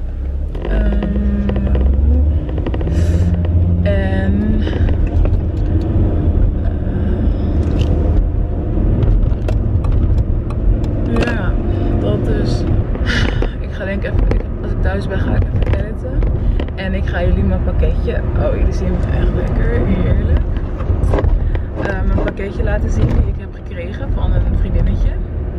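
Steady low rumble of a car interior while driving home on the road, loud and continuous throughout, with scattered creaks and knocks and talk over it.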